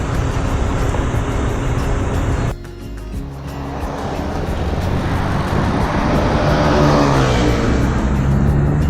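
Road traffic heard from a bicycle ride near Los Baños, Laguna: a steady broadband rumble of passing vehicles and wind, dipping briefly then swelling louder with a nearby engine, with no talk.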